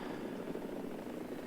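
A Mi-4AV helicopter in War Thunder gives a steady, continuous rotor and engine drone at moderate level, with no talk over it.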